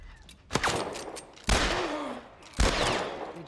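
Gunfire in the video game The Last of Us Part 1: three sharp, loud shots spaced about a second apart, each followed by a rolling reverberant tail, with no talking.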